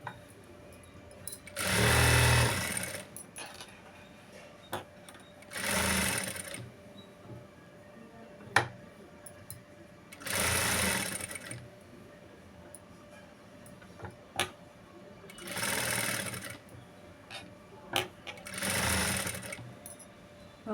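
A sewing machine runs a half-inch seam while stitching piping onto a blouse, in several separate bursts of steady motor whir divided by quiet pauses with small ticks and handling noises.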